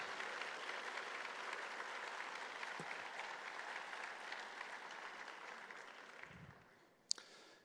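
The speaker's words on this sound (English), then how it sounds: "A round of applause for these special guests for their service and sacrifice." A breakfast audience applauds veterans and their families as honored guests, a steady round of clapping that fades out toward the end, followed by a brief sharp knock.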